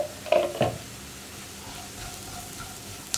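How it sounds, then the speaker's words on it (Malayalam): Spice powders sizzle faintly in a hot pan for pepper chicken roast, with a couple of brief scraping stirs near the start and a low, steady frying hiss after. "ഇനി നമുക്ക് ഈ പൊടികളൊന്ന് കുക്കായി വരുന്നത് ഒരു ഇളക്കി കൊടുക്കാം"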